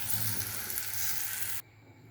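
Spices sizzling while frying in a pan for rui fish bhorta, a loud, close, bright hiss that runs steadily and then cuts off abruptly near the end, leaving a quiet room.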